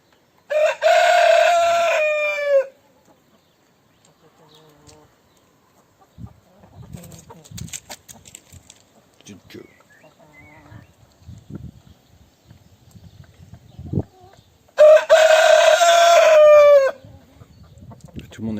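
Rooster crowing twice at a chicken coop with a solar automatic door, each long crow loud and near, with soft clucking and scattered rustling between the calls.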